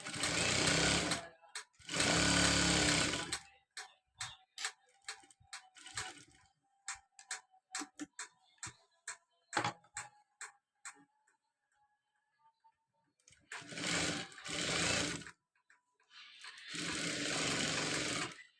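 A sewing machine stitching a uniform coat runs in two long bursts at the start, pauses through a stretch of quiet clicking and ticking as the fabric is adjusted, then runs in two more long bursts at the end, close up with no talking.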